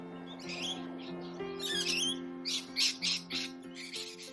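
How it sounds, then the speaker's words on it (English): Birds squawk and chirp in busy overlapping calls, bright and close, over a steady low hum. "The birds nestle and play in the trees."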